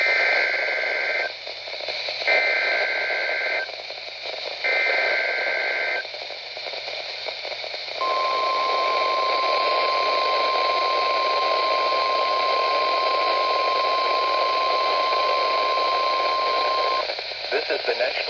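NOAA weather radio weekly test from the National Weather Service in State College, Pennsylvania: three loud bursts of the shrill data header tones, then a long steady alert tone held for about nine seconds.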